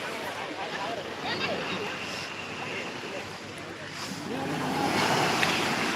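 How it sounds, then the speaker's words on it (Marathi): Rough sea waves crash and roll in a continuous roar, with wind buffeting the microphone, swelling louder toward the end, while people talk faintly over it. "समुद्र खूप खवळ्याला आहे"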